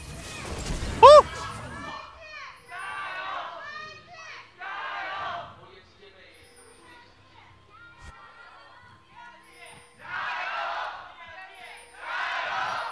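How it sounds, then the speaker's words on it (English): An esports arena crowd at an LPL League of Legends match between Bilibili Gaming and Vici Gaming breaks into bursts of cheering that rise and fall. Commentators talk between and over the roars. "Literally a flash from EasyHoon was what woke up the crowd"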